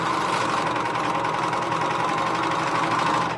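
A serger overlock sewing machine running steadily at high speed, a dense, even mechanical whir and hum held close and loud throughout, with no speech.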